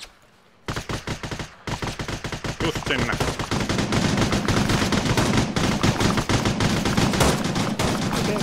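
Heavy rapid gunfire in a Finnish military patrol scene, loud and close, in dense bursts that grow into a continuous volley with brief gaps, with a few spoken words.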